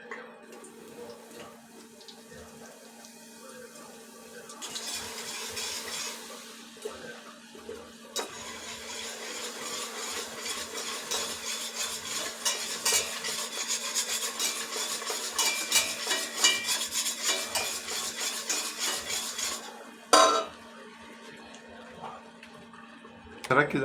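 Flour stirred into hot oil in a pan to start a roux, giving a steady hissing sizzle that swells in around five seconds, holds loud and dense, then drops away near the end.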